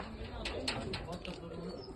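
Fancy pigeons coo softly close by in a coop, their low throaty calls overlapped by people talking nearby.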